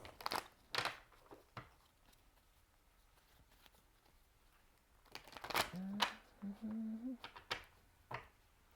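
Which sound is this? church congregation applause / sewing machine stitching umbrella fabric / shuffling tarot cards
shuffling tarot cards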